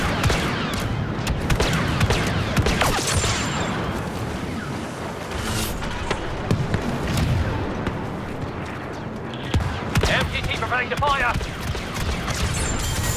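Blaster gunfire and explosions rattle through a Star Wars Battlefront 2 battle, dense rapid shots and booms layered under a character's voice pleading throughout.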